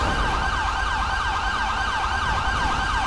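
An ambulance siren in GTA 5 wails loud and continuous, cycling in a rapid, regular rising-and-falling pattern with a low engine rumble beneath it.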